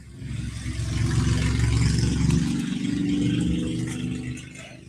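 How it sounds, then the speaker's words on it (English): Several cars rev their engines outside on a Friday night in Cleveland, Tennessee, a steady rumbling roar that swells, holds for a few seconds and fades, with no one speaking. "The noisy cars are out tonight."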